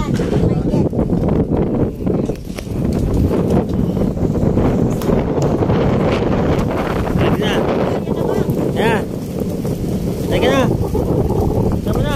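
Strong wind buffets loudly and continuously during an aerial sky-bike ride, with water sloshing beneath and occasional brief pitched squeaks.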